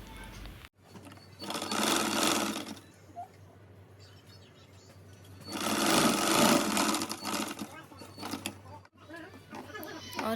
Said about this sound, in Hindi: और एक सिलाई लगाने के बाद हम इसमें ऊपर से सिलाई लगा देंगे